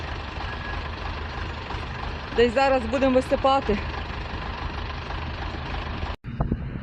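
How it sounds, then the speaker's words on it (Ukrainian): A tractor with a trailer runs steadily during a wheat harvest, a low continuous diesel engine drone heard close by throughout, with someone speaking briefly over it. "Вже трактор з прицепом на мазі"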